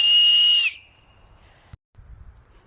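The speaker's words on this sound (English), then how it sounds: "take an acorn top and make a whistle out of it" One loud, piercing whistle blown through an acorn cap, a shrill steady tone lasting under a second before cutting off into quiet outdoor background.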